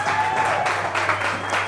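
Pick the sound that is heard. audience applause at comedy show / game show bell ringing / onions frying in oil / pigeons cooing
audience applause at comedy show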